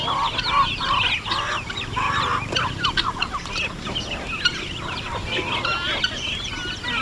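Chickens clucking busily nearby after heavy rain, many overlapping calls with scattered bird chatter, including pigeons and ducks, and a steady outdoor background.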